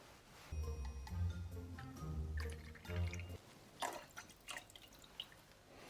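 Cointreau trickles from a tiny mini bottle into a cocktail mix, a short liquid pour of a couple of seconds followed by a few faint clinks and drips, close and quiet with no talk.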